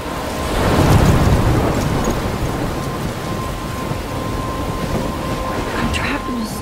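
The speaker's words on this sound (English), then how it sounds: "I'm trapped in a storm?" A thunderstorm in the video game Life is Strange, with a loud rumble of thunder swelling early over steady, heavy rain that keeps pouring at close range; a voice speaks briefly over the storm.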